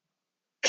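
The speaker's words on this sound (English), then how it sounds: "I need to get this cough out of my throat." A single sharp human cough bursts out close to the microphone at the very end, after nearly a second of silence, with no talking around it.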